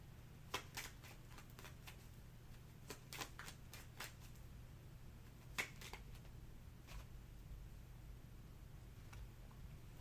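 Tarot cards being shuffled by hand in quiet, faint crisp riffles and slaps that come in scattered bursts over a low steady hum, with no talking.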